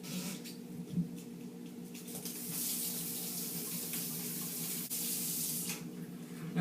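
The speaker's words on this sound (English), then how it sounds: "So you gotta go and wash your potatoes." Tap water runs steadily into a sink as potatoes are washed, a continuous close splashing rush with slight shifts as the stream hits the potatoes.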